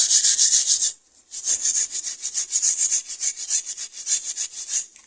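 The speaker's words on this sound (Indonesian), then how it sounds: "Kalau mau lebih bersih lagi boleh digosoknya lebih agak keras sedikit" Raw potatoes scrubbed by hand, a rapid rhythmic rasping, close and loud, running in two bursts with a short pause between, no voices.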